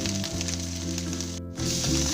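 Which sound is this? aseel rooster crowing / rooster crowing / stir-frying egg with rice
stir-frying egg with rice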